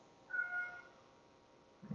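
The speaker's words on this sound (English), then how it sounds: "Hopefully the cat noise doesn't bother you." A single drawn-out cat meow, fairly faint and close, followed by quiet and a brief low thump at the end.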